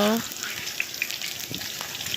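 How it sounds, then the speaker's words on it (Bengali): Potatoes crackle and sizzle in hot oil in a pan, a steady frying hiss with scattered pops and a brief voice at the start. "আলুগুলোকে ভাজা বসিয়ে দেওয়া হয়েছে"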